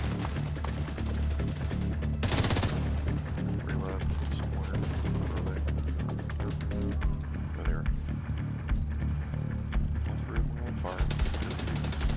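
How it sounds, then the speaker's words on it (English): SMG fire in The Division 2 during a mall fight, busy crackling shots over a constant loud game soundscape with music-like drones and mechanical noise, fairly distant and partly buried. "I love when a guy with an SMG is hitting me from like 100 yards away"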